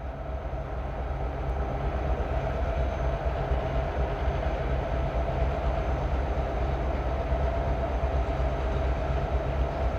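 CN and Iowa Northern trains run at Cedar Falls Junction, where the Iowa Northern's old Rock Island line branches off the Waterloo subdivision. A steady, close rolling roar of rail cars with a deep drone fills the whole stretch.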